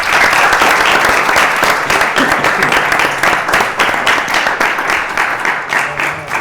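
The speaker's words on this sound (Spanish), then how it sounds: "por favor, un aplauso" A live podcast audience breaks into loud, close applause, many hands clapping rapidly in a thick, continuous burst that stays strong for several seconds with no speech.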